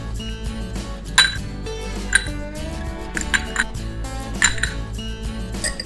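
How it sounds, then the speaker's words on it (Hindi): Ice cubes drop into a mojito glass, clinking sharply in a few separate bright strikes with small glassy rattles between, close up over a soft background bed. "उसके बाद में you to add ice cubes"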